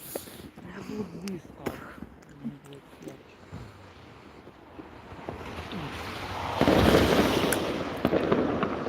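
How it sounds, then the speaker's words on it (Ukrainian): Fireworks salute bursting in a city among tall buildings, heard as scattered distant pops and crackles that swell into a louder, denser barrage near the end, with people talking nearby. "То ми тут постоїмо, подивимося салют."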